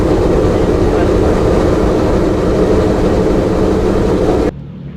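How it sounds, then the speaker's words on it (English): Four-engine B-17 Flying Fortress bomber taxiing, heard from inside the cabin: a loud, steady, dense piston-engine roar with constant rumble that drops abruptly to a quieter hum near the end. "It's a loud, kind of jolting experience inside the plane on the taxiway."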